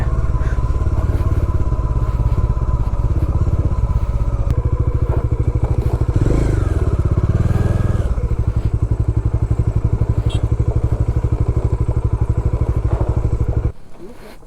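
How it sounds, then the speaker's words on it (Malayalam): A motorcycle descends a slippery hill road near Kookal and Mannavanoor in Kodaikanal using engine braking, its engine a loud, close, steady low throb with a pulsing rhythm that suddenly cuts off near the end. "ഇവിടെ വെച്ച് ഞാൻ ബ്രേക്സിന് പകരം കൂടുതലും എൻജിൻ ബ്രേക്കിങ് യൂസ് ചെയ്യാൻ ട്രൈ ചെയ്യുന്നത്."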